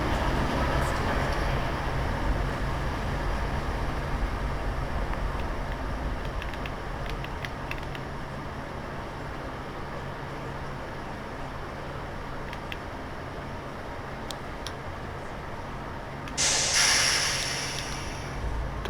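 Metro train in the game Metro Sim Hustle running along the line as a steady low rumble with faint rail clatter, ending in a brief hissing burst near the end.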